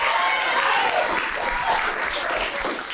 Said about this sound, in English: Let's give Marissa a round of applause too.